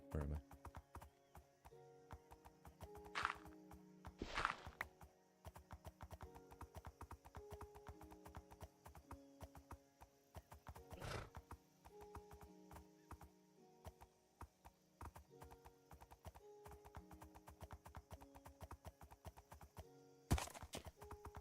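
Horse hooves in Minecraft while riding through a forest: repeated clip-clop steps under background tones, with several sharper louder hits standing out, and no speech.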